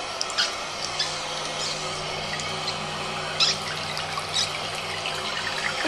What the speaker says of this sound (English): Look, it constantly can flush.